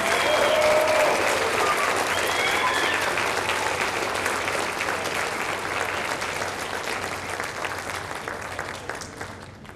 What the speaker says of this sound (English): Another round of our applause for our Johns Hopkins SAT scholars.